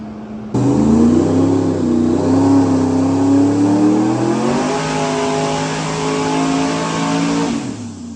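A twin-turbo LS V8 car on a dyno starts a loud run, its engine note rising steadily as it revs and holds high, then cutting off sharply near the end, close and with no talk.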